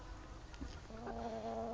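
Chickens in a coop on a winter evening, a few soft clucks followed by a sustained low murmuring call, close and quiet.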